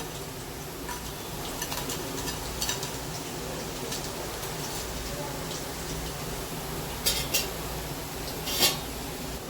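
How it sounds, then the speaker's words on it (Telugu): Homemade potato chips frying in oil, giving a steady, even hiss that runs throughout, with a few light clinks of a utensil against the pan near the end. "ఇక్కడ మనం ఫ్రై చేస్తున్నాం"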